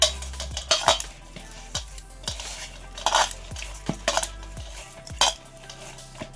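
Dough being mixed and kneaded by hand in a bowl, giving repeated soft slaps and scraping knocks against the bowl in an uneven rhythm, close and clear.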